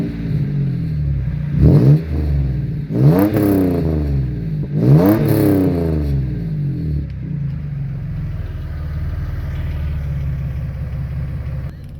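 A 1993 Toyota pickup with a swapped 5VZ-FE V6 and a 2.5-inch MagnaFlow 14-inch muffler rumbles at idle, then gets three sharp throttle blips, each rising and falling, before settling back to a low steady idle.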